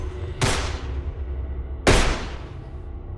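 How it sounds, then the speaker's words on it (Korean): Two sharp gunshots crack at night in New York, each a loud sudden blast with a decaying echo, spaced about a second and a half apart. "또다시 뉴욕의 밤을 깨우는 총성이 울립니다."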